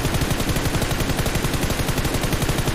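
Rapid automatic gunfire from a PUBG Mobile match, a dense continuous burst of shots loud and close throughout, with no voices over it.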